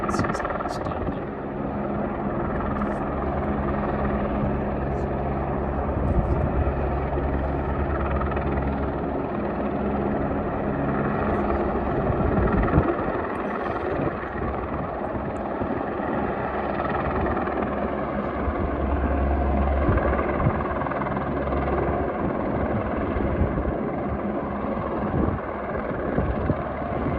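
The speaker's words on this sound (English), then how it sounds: "there were a few helicopters that landed and took off from there" A helicopter's rotor thumps and engine drone continuously nearby as it lands in the Grand Canyon, steady and loud, with the throb shifting slightly as it settles down.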